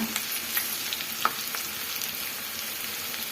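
Crushed garlic and asafoetida frying in hot oil for a raw mango chutney, a steady soft sizzle with a few light clinks of a spoon against the pan, no talking.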